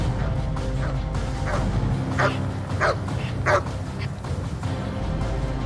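Several dogs bark and yip in bursts over a steady low background rumble, with a few sharper barks clustered toward the middle and no talk in between.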